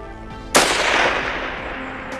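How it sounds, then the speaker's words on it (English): A single rifle shot fired at a target around 845 yards away in an open field cracks sharply and loudly, then rolls off in a long, fading echo. "Shoot one more just for shit and giggles, just to let you all know that's not a lucky shot."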